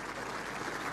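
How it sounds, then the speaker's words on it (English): A rugby crowd at a Connacht versus Munster URC match applauds an injured player leaving the field, a dense, steady wash of clapping filling the whole moment. "The crowd giving him a wonderful round of applause as he moves off the field"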